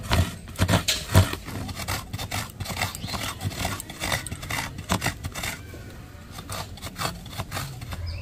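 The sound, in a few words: grating coconut for pitha filling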